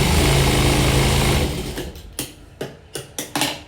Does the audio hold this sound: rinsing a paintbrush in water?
no